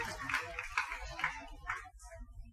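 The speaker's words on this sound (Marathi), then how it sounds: "टाळ्यांचा गजर करावा" Crowd applause at a Vishwakarma carpenter community honour ceremony in Ambegaon, Maharashtra, steady moderate clapping from a hall audience with voices mixed underneath throughout.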